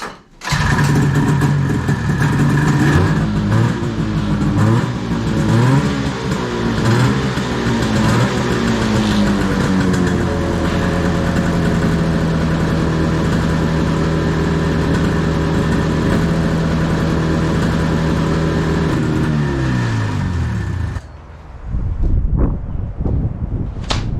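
A 1971 Arctic Cat snowmobile that sat for over fifteen years runs loud and close, revving and settling into a steady drone before cutting off near the end.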